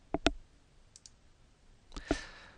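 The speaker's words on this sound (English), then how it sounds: "Another is just to right mouse button click and choose Pocket from the Smart menu" A right mouse button on a computer running TopSolid'Design CAD software clicks twice near the start and twice more about two seconds later, each pair crisp, close and quick, with a hush in between.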